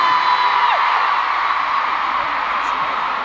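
A large concert crowd at a farewell tour show cheering and whooping, a loud sustained roar of many voices filling the space without a break.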